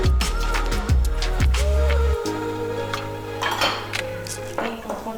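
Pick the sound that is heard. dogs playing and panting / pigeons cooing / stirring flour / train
stirring flour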